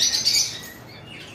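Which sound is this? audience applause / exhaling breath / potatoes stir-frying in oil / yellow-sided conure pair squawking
yellow-sided conure pair squawking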